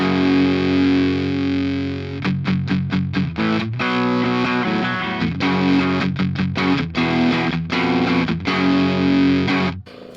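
A damaged Behringer distortion pedal, tested for durability, still puts out a loud, fuzzy distorted guitar tone, with sustained chords broken by quick choppy stops and restarts throughout.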